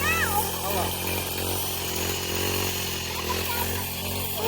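Grass trimmer motor whining steadily at high revs while cutting grass near a family home, loud and close throughout with no pauses.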